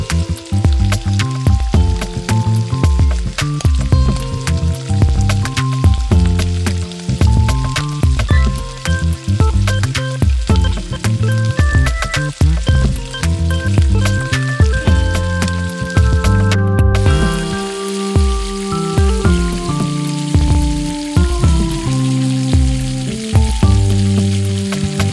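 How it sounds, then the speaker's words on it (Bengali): Soya chunks coated in egg frying in hot oil, a loud, close, continuous sizzle with crackling bursts throughout and occasional stirring, with no voices. "এখন আমি ডিম দিয়ে মেখে রাখা সয়াবিনগুলো খুব ভালো করে ভেজে নেব।"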